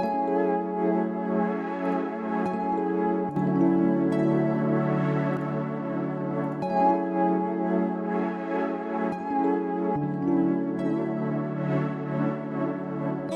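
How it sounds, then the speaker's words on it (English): Lo-fi melody bus in FL Studio run through the Patcher humanizer preset, giving a warbly detuned tone; sustained harmonic chords with a steady low bass play continuously, loud and alone, changing roughly every three seconds. "it gives it this really nice detune effect that you hear all the time on lo-fi"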